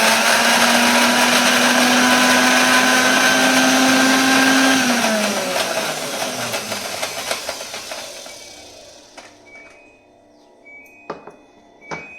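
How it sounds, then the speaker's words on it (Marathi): Kitchen mixer grinding green chillies for a chana dal besan recipe. A loud, close motor whine runs steadily, then winds down and fades, followed by a few faint clinks and knocks. "आता हिरवी मिरची थोडी आपल्याला फिरवून घ्यायची आहे."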